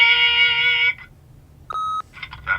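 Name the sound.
answering machine beep in The Wolf Among Us video game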